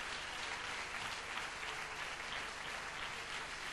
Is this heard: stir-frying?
no